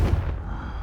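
A Confringo blasting curse explosion from the Hogwarts Legacy video game: one heavy, close, booming blast that rumbles low and decays quickly within a second.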